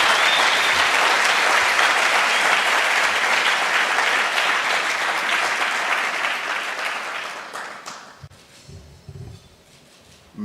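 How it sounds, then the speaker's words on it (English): A large audience at a ceremony for South Africa joining Afreximbank gives a sustained, rousing round of applause, loud and dense, fading out over several seconds until it dies away near the end. "we should give a rousing round of applause"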